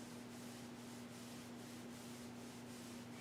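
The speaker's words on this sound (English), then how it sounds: "Let's begin by rubbing the thighs." Hands rubbing briskly up and down the thighs during a mindfulness body-activation exercise, a steady soft swishing friction with gentle rhythmic pulses, quiet and close, with a faint constant hum underneath and no talking.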